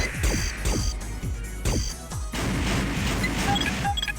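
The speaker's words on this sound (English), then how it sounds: "He did an explosion at me." Explosion in the mecha combat game Armored Core: Master of Arena, a series of sharp, punchy blasts with descending whooshing tails, followed by a crackling, rumbling burst near the end.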